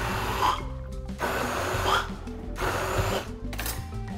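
Blender grinding chiles with tomato for chicharrón in salsa, running in several loud bursts of whirring and chopping separated by brief pauses, with no talk.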